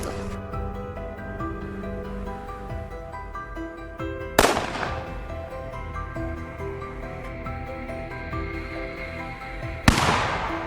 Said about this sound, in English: the familiar crack of his rifle rang out